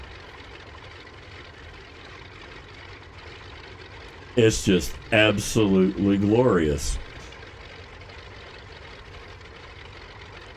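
Ford Trimotor aircraft engines in Microsoft Flight Simulator idle as a steady low drone, mostly drowned out by someone talking over them partway through.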